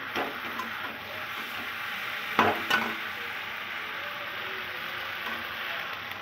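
Potato and cauliflower pieces sauté in spiced oil with a green chilli for a thin winter koi fish curry: a close, steady sizzle broken by a couple of sharp stirring knocks midway.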